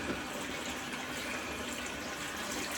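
Tap water running steadily to rinse during a head shave, a continuous close gush with no pauses.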